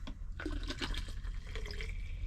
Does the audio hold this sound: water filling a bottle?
yes